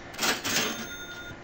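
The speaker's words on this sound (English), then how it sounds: "anytime you hear a cha-ching, you know you're doing well" A cash register cha-ching alert from trading software rings out once, bright and metallic, with a shimmering tail that fades away. No one speaks.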